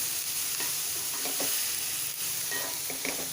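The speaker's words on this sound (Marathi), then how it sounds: "मध्यम गॅसवर आपल्याला हा कांदा 4 ते 5 मिनटं छान गुलाबी होईपर्यंत किंवा सोनेरी रंगाचा होईपर्यंत परतून घ्यायचा आहे" Onion and curry leaves fry in a pan over medium heat, with a steady hiss of sizzling and occasional soft stirring scrapes, heard up close and without talk.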